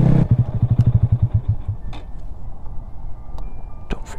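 A motorcycle revs with a rapid, pulsing engine note for about a second and a half before easing off into a steady low rumble of riding, with a couple of brief clanks later on; no one speaks.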